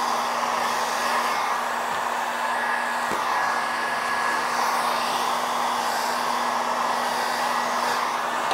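A heat gun blows a steady, loud whirring hiss while warming Surfex vinyl interior film being wrapped around a round table top, continuous and close with no speech.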